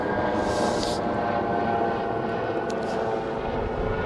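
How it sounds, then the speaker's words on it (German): A helicopter drones overhead with a loud, steady engine roar that holds constant throughout, no one speaking. "Fliegt jetzt gerade ein Hubschrauber drüber."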